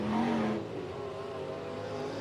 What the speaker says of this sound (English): the final car coming across the start-finish line is a 3D car of Dale Ottman